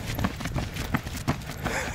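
Horse hooves clip-clopping close by in a quick, uneven rhythm of soft thuds, with faint background noise throughout.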